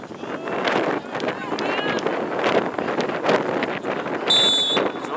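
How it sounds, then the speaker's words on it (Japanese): Cold autumn wind blowing at an outdoor youth soccer match, a steady rushing buffet against the microphone under continuous commentary, with a brief whistle near the end. "冷たい秋風が吹いていますが"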